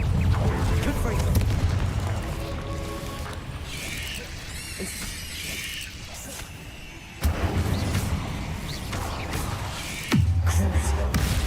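Confringo fire blast spells exploding in a Harry Potter video game: a rumbling boom and crackle that swells, then two sharp new blasts land in quick succession, loud and close, with game effects layered over them.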